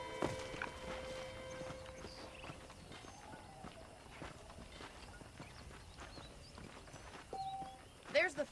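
Horse hooves clip-clop at a steady walk in the Western video game Red Dead Redemption, with game music and ambience beneath and a voice talking over parts of the scene.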